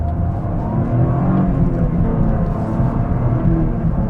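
2024 Toyota GR Corolla Circuit Edition hot hatch accelerating away, its engine note climbing and swelling in a steady, fairly loud rise heard from inside the car with no talking.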